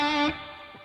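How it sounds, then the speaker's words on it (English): An electric guitar played through a Captain Hook amp with distortion gives one sustained, buzzy note that fades out with a light wash of effect. "I've chosen a Captain Hook amp here with some cool distortion and to give it a more wide sound."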